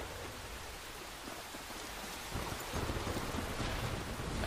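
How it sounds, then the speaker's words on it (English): Steady heavy rain from a thunderstorm in Life Is Strange hisses as a dense wash of noise, growing louder partway through with low rumbling underneath. "Pretty stormy."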